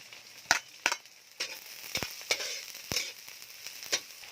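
Garlic and onion sauté in a pan with a light sizzle, punctuated by several sharp clacks and scrapes of a spatula against the pan at irregular intervals.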